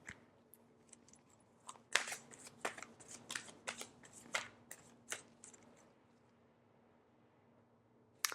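Tarot cards being shuffled and handled, a run of soft riffling snaps and slaps with quieter rustling between them, close and moderately loud with no talking.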